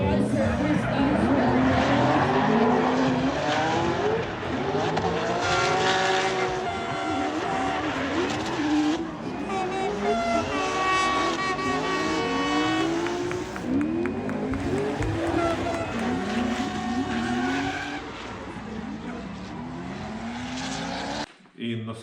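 Drift cars battle in the DDK 25 Drift Stars final of the 2025 national championship. Loud engines rev, rising and falling continuously, with tyre squeal and close, roaring passes for about twenty seconds.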